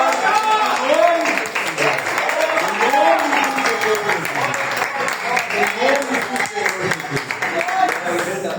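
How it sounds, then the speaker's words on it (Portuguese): Church congregation clapping together during worship, the rhythmic clapping mixed with singing or shouting voices at moderate level throughout. "Então vamos, igreja, aplaudir, aplaudir, aplaudir, glorificar,"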